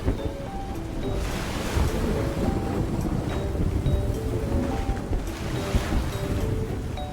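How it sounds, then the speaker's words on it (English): Stormy sea waves in a video game surge and crash continuously with gusting wind noise, a dense, loud, steady wash of surf and water with no one speaking. "I can't calm stormy waves right now."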